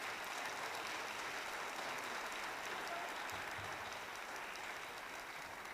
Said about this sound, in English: Can we give another round of applause to the 7th and 8th graders?